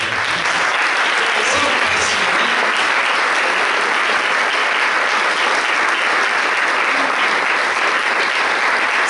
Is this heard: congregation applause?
yes